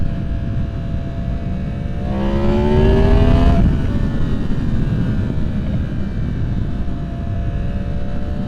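A 2023 Yamaha MT-10 motorcycle with its straight-through exhaust muffler removed drones steadily, then revs up in one rising, raspy sweep and settles back to a loud, even rumble.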